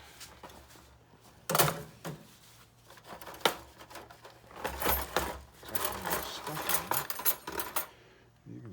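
Metal powder-coating hangers clink and jangle in bright, scattered bursts as they are pulled from a stripping tank, close up, with quieter rattles between the louder clusters.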